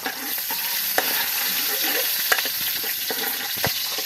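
Onion sizzling in a hot frying pan, a dense steady hiss with a few sharp clicks and scrapes from stirring, close and moderately loud.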